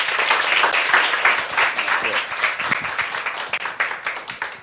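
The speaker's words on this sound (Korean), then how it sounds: "박수로 맞이해 주세요." An audience at a career-school lecture welcomes a KBS reporter with brisk, close applause whose individual claps stand out, tapering gradually over a few seconds.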